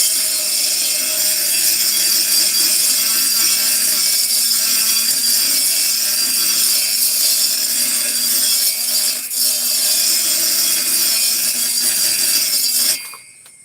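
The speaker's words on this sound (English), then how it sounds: "the flappy sander is just a drywall screw with a slit down the middle." A flap sander improvised from a drywall screw with a slit down the middle grinds steadily at an engine port on a 372 big bore cylinder kit, a loud continuous abrasive whir that runs for about thirteen seconds before cutting off.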